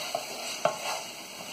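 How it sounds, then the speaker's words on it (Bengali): Masoor lentils (dal) stirred in a pan for a papaya-dal dish, a couple of soft scraping strokes over a quiet steady sizzle, close and fairly faint with no voices. "ডালটা দিয়ে একটু নেড়ে দিব"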